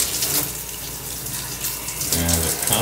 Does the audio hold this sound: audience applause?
no